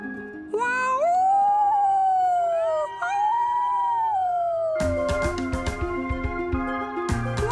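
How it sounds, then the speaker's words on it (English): A dog gives a long, wavering howl that rises and falls across several seconds, followed by a clattering burst of music. "That's when the howling began."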